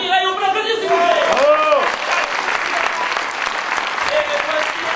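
Studio audience applause during a French television game show, dense and steady for the full stretch, with a host's voice talking over it at the start and again near the end.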